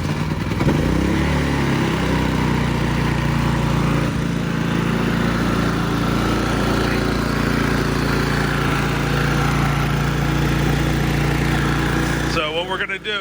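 A Predator 3500 generator engine runs steadily as it warms up, a loud, continuous close-up drone with a faint, uneven surge in pitch and a brief clatter near the end.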